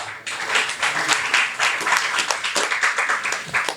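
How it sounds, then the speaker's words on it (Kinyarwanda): A congregation claps together at a memorial farewell evening, a dense, steady round of applause holding strong for nearly four seconds after a brief quiet start. "Dukomere amashyi menshi Imana."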